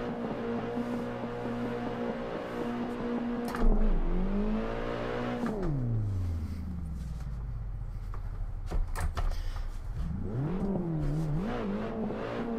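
Rear-wheel drive BMW E30 drift car sliding on an unplowed snowy road, engine revving up and down in long swells with a deep rumble around the middle, moderately loud and close with no talk.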